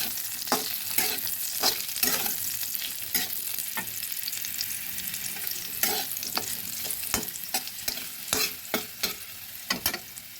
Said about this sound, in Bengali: হ্যাঁ আলুগুলো আমার ভাজা হয়ে গেছে তুলে নিচ্ছি